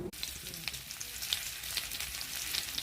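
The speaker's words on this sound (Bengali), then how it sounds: "জিরে দিয়ে দিলাম, জিরে ফোড়ন" Cumin seeds tempering in hot oil in a pan where eggs were just fried for an egg curry, a steady bright sizzle with scattered crackles and pops throughout.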